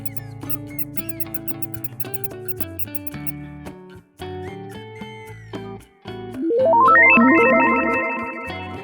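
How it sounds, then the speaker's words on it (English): A mouse squeaks in an animal sound quiz for kids: a busy run of bright, chirpy squeaks and squeals, loud and close, ending in a rising sustained squeal, with no talk. "It is a mouse."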